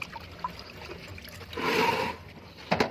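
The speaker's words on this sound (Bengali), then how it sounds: "এই জলটা একটু পুরাতন হয়ে আছে এই জলটা ফেলে দেবো" Old standing water poured out onto the ground outdoors, a short splashing gush lasting about half a second, loud and close, with faint trickles before it and a brief final splash.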